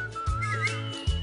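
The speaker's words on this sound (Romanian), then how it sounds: "Bă, dar ăștia fluieră ca și cum ar vrea să ne agațe" Whistling from a studio audience at a Romanian comedy show, a short, shrill wavering whistle lasting about a second, with low crowd murmur underneath.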